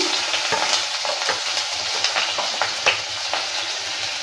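Chopped onion dropped into a pan of hot oil with fried black cumin, crackling steadily up close with scattered stirring taps and scrapes throughout.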